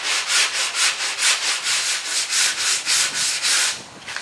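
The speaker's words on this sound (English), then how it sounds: "now I'm going to go ahead and sand this edge down" A sanding block worked back and forth along the edge of a damaged vehicle body panel during collision repair: about fourteen even, rhythmic rasping strokes, close and loud, slowing at the end, with no talking.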